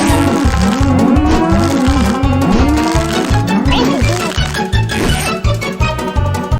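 Cow minions in a South Park video game, with loud repeated moos rising and falling over a steady thumping rhythmic beat.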